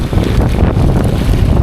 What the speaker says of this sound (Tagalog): Uy, tinatangay kami ng hangin.